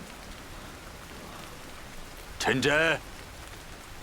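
Steady rain falling, a soft continuous patter throughout, with someone briefly speaking over it midway.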